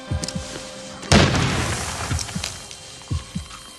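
Grenade explosion in the We Happy Few video game, one loud, sharp blast a second in that rumbles away under scattered thumps and game sounds.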